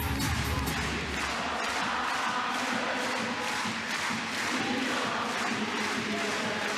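Dense, roaring crowd of handball fans cheering continuously in an arena during the world championship final between Denmark and Norway, loud and sustained throughout with no break.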